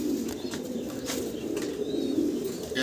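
Two red indigo Andalusian pigeons at an exhibition give a continuous low, droning coo close by over dense background noise, with faint higher chirps drifting through.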